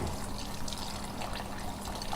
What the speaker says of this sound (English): Add another fresh water to it.